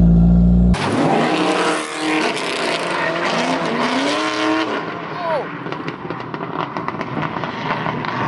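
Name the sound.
AE86 drift car engine and tire squeal while drifting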